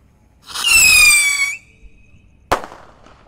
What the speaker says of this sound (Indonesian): Lanjut di sini ada Roket Pirotor ukuran mini guys. Kita nyalakan. Roket siap meluncur.